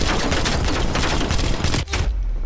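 Rapid video game gunfire from an online shooter, a dense continuous burst of overlapping shots that cuts off abruptly near the end.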